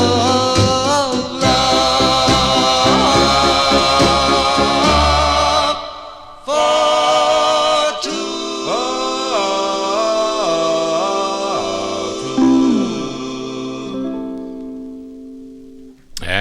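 A 1950s doo-wop 45 plays on vinyl, with a full band and a sung lead. The sound is loud and steady, then fades out near the end.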